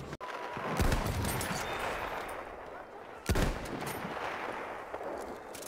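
Gunfire from the World War I shooter Battlefield 1, with sharp broadband shots near 0.8 s and 3.3 s over a dense, steady wash of distant battle noise.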